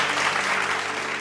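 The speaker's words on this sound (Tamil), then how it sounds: "கைத்தட்டுங்க ஒருத்தர் அவருக்கு" A congregation at a church faith service claps together; a short burst of dense, even applause from many hands, close and fairly loud.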